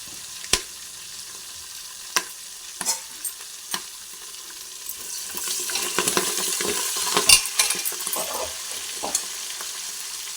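Curry leaves crackling and sizzling in hot oil in a pan for chicken curry, with sharp pops and spatters at first, then a denser sizzle as they are stirred, close and loud with no talking.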